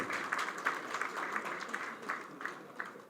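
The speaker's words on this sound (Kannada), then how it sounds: "ಎಲ್ಲ ಚಪ್ಪಾಳೆ" An audience applauds to welcome a well-known Kannada writer onto the stage at a film event. The clapping is steady and dense throughout, with crisp individual claps standing out above the crowd.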